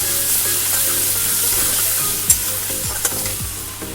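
Whole cinnamon, cloves, cardamom and chopped garlic fry in hot oil with a steady close crackling sizzle, broken near the end by a few sharp metallic clinks.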